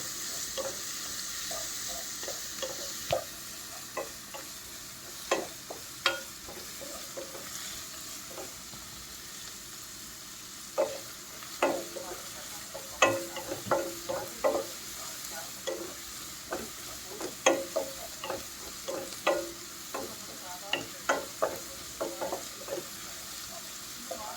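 Fried rice stir-fried on a full flame, with a steady sizzle and repeated sharp scrapes and clacks of the spatula against the pan in an uneven rhythm, close and moderately loud.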